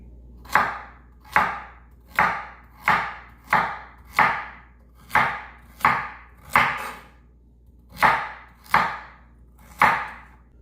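Celery stalks chopped into thick chunks with a knife on a board, about a dozen sharp, evenly paced thunks with short decays, close and clear with no talking.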